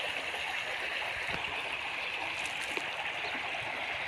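A river stream flows past trees with birds nearby, a continuous rushing and gurgling wash of water, steady and fairly close, with no voices.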